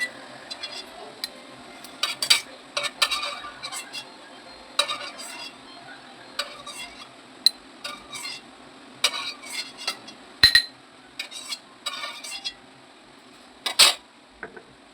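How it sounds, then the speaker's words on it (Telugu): Metal spoon scraping and clinking against a pan while fried food for carrot halwa is scooped into a bowl, a string of sharp irregular taps and scrapes over a quiet kitchen. "ఫ్రై అయిపోయింది ఫ్రెండ్స్, బాగా బౌల్లోకి తీసేసుకోవాలి మనం."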